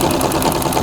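A sewing machine set to its lowest speed runs during free motion quilting of feathers, a close, steady whirring with a rapid repeating needle pulse.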